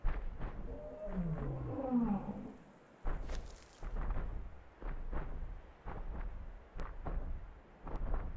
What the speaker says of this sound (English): I hope I don't have to listen to that elephant all day.